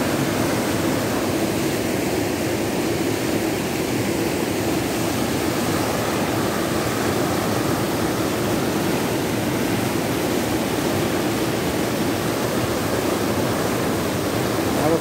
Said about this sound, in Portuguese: Linda queda d'água aqui, que a gente encontra aqui no Rio Piangi